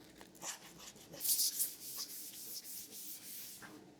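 Sandpaper of 320 grit rubs back and forth over a flat surface in short strokes, faint and close, with one brighter scratchy pass in the middle and no talking.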